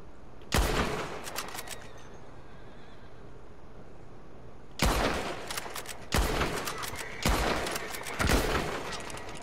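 Explosive rounds fired in Red Dead Redemption 2 Online, heard as sharp, loud gunshot blasts: a single shot, a pause, then four more spaced evenly about a second apart, each with a short booming tail.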